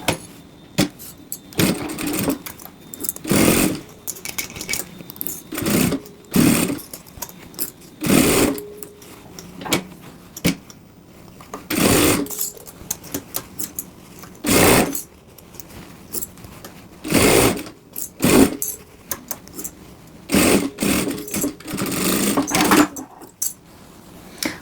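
A sewing machine stitches all the way around a fabric piece in repeated loud, close bursts of rapid mechanical chatter. Brief pauses fall between runs, and there is no talk.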